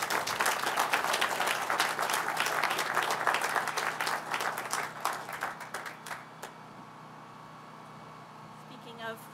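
Audience applause at an Interstate 80 Yerba Buena ramp opening ceremony: dense, steady clapping from a crowd outdoors that fades away after about six seconds, leaving a quiet background hum.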